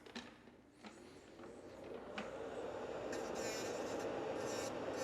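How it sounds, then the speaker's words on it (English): An electric nail drill files an old gel nail design off the nails, a faint, steady rasping grind that gradually grows fuller and louder. "So I'm just filing everything, all the design."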